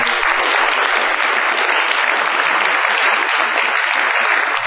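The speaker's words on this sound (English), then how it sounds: "Would you give me also a big applause?" Loud, dense applause from a lecture audience fills the room steadily and without pause, a continuous wash of many hands clapping with no voices standing out.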